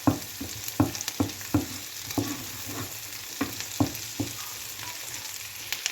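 Small onions sautéing in oil for a Kerala-style mushroom stir-fry, a soft steady sizzle broken by a dozen or so sharp scrape-and-clack spatula strokes against the pan, close and alone with no talk.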